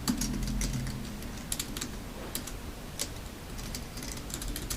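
Computer keyboard typing while writing Python code for a movie recommender in VS Code: a fast, uneven run of light clicking keystrokes, fairly close, going on steadily throughout with no speech.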